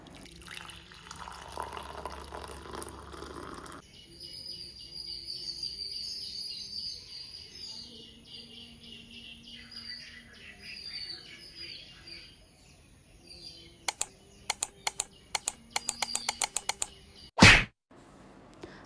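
Birds chirp and tweet intermittently at a moderate distance over a quiet background, followed by a run of sharp clicks and one loud knock near the end.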